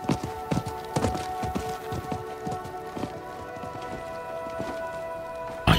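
Horse hooves clip-clopping at a steady walking rhythm in the video game Diablo 4, a string of sharp close hoof strikes over droning ambient music and light patter.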